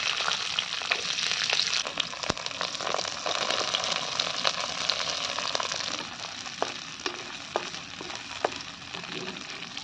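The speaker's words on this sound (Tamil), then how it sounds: "மசாலா வணக்கறதுக்கு எண்ணெய் ஊற்றிக்கிறேன், வெங்காயம் போடுறேன் வணக்கறதுக்கு" Onions frying in oil in a kadai for a brinjal curry, a steady close sizzle with scattered crackles and pops and occasional sharp clicks of a spoon against the pan, no speech.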